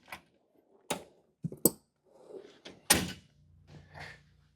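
Drawers of a tool chest in a garage during work on a Mazda are pulled open and pushed shut, giving several sharp wooden-metal knocks and thunks with a low rattle trailing off, close and fairly loud.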